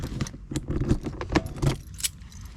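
Keys jingle and clink close by while a car is being locked up at a country park camping spot, a quick run of irregular metallic rattles and taps.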